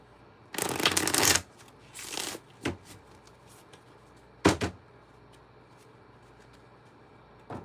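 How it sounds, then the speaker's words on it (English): A deck of cards shuffled by hand during a live card-reading stream, heard as two long riffling bursts, a shorter flurry, then a couple of brief taps and bridge snaps, close and alone in a quiet room. "I'm just focusing on getting my shuffling done."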